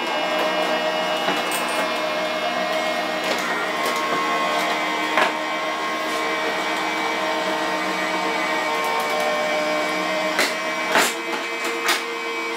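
A Gemini die-cutting machine runs steadily, a continuous mechanical whir and hum with a few faint clicks and knocks as plates pass through, close and alone without talk.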